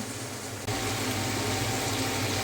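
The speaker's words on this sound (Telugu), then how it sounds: "కొంచెం వాటర్ వేసుకుంటున్నాను" Water pours into a pan of cooking chana dal for a ridge gourd curry: a sudden rushing gush that starts abruptly and keeps flowing steadily under faint kitchen noise.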